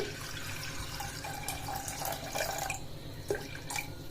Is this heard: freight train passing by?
no